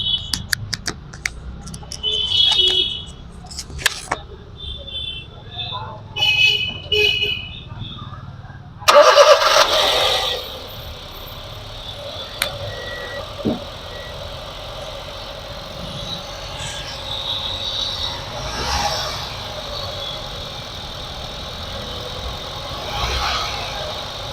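A 2012 Honda Brio with a petrol i-VTEC engine cranks and catches, then settles into a steady idle, heard close by after some clicks and handling noises.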